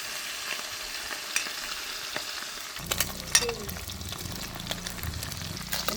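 Meat frying in hot oil for a village-style kothu roti, a steady crackling sizzle that grows louder and busier midway with sharp pops and stirring scrapes, close and continuous with no talk.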